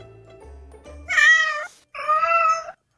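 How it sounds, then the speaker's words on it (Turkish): A cat meows twice in quick succession, close and clear, with a short pause between the two drawn-out calls and a quiet room behind them. "Bir meow muydu ya?"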